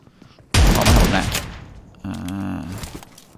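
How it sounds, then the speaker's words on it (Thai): A grenade blast and a burst of gunfire in the mobile battle game PUBG Mobile: a loud sudden explosive burst that fades over about a second, followed by a steady rattling stretch of rapid fire, with commentary alongside. "ผมปาระเบิดไป เขาต้องหนีครับ"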